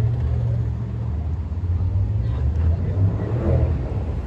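A heavy sports car engine rumbles steadily at idle at a car meet in Switzerland, deep and continuous, with a slight swell in revs toward the end.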